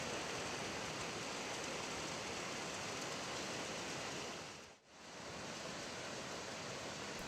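Heavy rain pours in a dense, unbroken roar during a cloudburst in Uttarakhand that brought flooding, loud and steady throughout apart from one brief dip midway.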